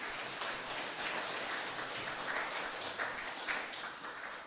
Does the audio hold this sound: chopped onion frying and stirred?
no